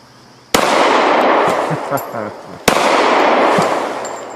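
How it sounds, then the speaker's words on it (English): Two sharp, loud gunshots about two seconds apart, each a sudden crack followed by a long echoing decay outdoors. "quit playing around, shoot the gun"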